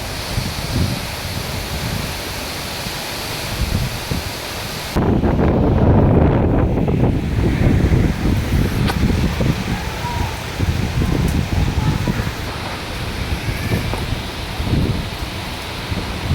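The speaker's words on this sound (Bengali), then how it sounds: "প্রচণ্ড বাতাস এর মধ্যে বৃষ্টি" Strong cyclone wind with rain roars and buffets the microphone in steady gusts, growing noticeably louder partway through, with a voice faintly audible beneath.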